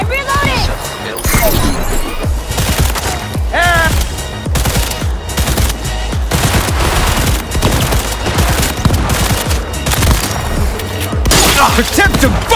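Rapid shotgun blasts and other heavy gunfire in the video game Cyberpunk 2077, loud close booms in dense, uneven volleys throughout, with shouted talk mixed in.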